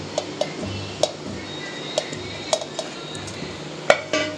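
Cooked, cooled carrots dropped into a steel mixer jar for carrot kheer, with scattered light clinks and taps of utensil on metal spread over a few seconds, close by over faint kitchen background and no talking.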